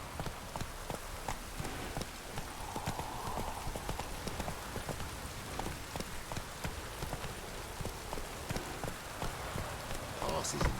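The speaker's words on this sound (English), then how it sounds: "Come on, Roach." A horse's hooves clip-clop at a steady walking pace through steady rain in The Witcher 3, close and continuous, with rainfall hissing underneath throughout.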